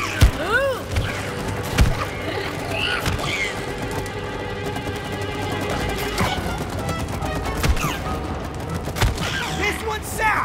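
Gunfire in the co-op game It Takes Two crackles in rapid, repeated sharp bursts over a busy, dense game soundscape with sweeping tonal effects, loud and continuous across the scene.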